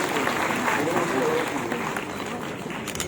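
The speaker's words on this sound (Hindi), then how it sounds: "जोरदार तालियां बजाते रहिए भैया।" Applause from an audience at an official ceremony in Moradabad: steady crowd clapping, fairly distant and diffuse, with a voice speaking over it.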